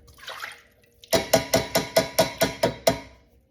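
Coconut milk pours from a can into a pot for coconut rice, with a short soft splash followed by about eight evenly spaced, loud glugs before it stops.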